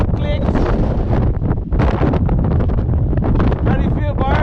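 Strong wind gusting across a hiking trail on the Larapinta Trail, a loud, constant roaring buffet hitting the microphone close up, with voices partly heard beneath the rush.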